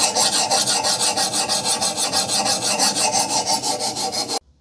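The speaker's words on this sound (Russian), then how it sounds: "Сейчас у меня эльбор 125/100 и начинаем формировать подводы." Leatherman Ukiah hunting knife blade being sharpened on a 125/100-grit elbor (CBN) stone: steady, close rhythmic rasping strokes, each a bright scrape, repeating evenly for several seconds before stopping abruptly.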